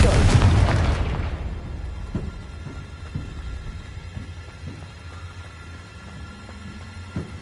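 In the Hogwarts Legacy video game, a Confringo blasting spell lands with a heavy boom that decays over about a second. Faint scattered pops and low rumbles follow.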